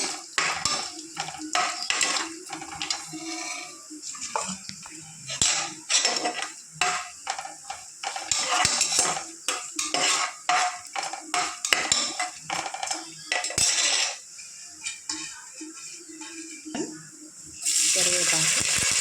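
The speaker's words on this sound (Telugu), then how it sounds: "మాడకుండా 4 పక్కల అలాగా కలుపుతూ ఉండాలి." Cumin seeds and cashews are stirred in a pot for temple-style pepper pongal, with repeated metal spoon scrapes and clinks against the pan over a soft frying sizzle.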